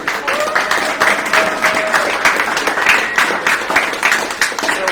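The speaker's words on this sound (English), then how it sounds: "So give yourselves a round of applause." Bryant & Stratton women's and men's soccer teams clap for themselves during the USCAA national selection show. The applause is loud, close and continuous, with brisk overlapping claps and a faint tonal voice or whistle drifting over it.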